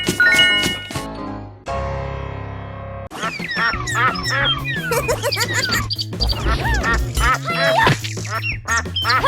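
Cartoonish duck quacks sound in rapid, loud bursts over busy music and game effects, with a voice mimicking a quack along with them.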